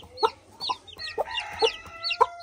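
A hen clucks nearby in a series of short, sharp, rhythmic calls, about six distinct clucks spread evenly across a quiet background with no talking.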